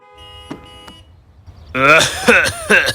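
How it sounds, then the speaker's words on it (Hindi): A cartoon car's engine sputters and splutters like a cough on a cold night, first as a few faint tonal blips, then a louder run of rough coughing bursts. "तुम्हारी गाड़ी बीमार है रैमजी, देखो खांस रही है"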